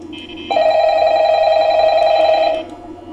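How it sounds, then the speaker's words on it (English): A phone in the Five Nights at Freddy's video game rings in one long, loud electronic trill lasting about two seconds, sitting close and alone before it cuts off. "That's what I was expecting, a phone call."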